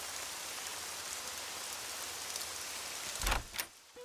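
Steady rain falls through most of the stretch, a dense even hiss of drops on surfaces, then a couple of sharp louder bumps near the end as the rain noise drops away.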